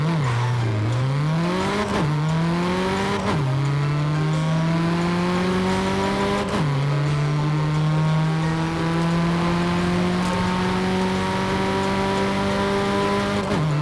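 A Mercedes A45 engine in Forza Horizon 5 revs through several gear changes, each shift dropping the pitch before it climbs again, ending in a long, steady, buzzy, trombone-like cruise. No talking.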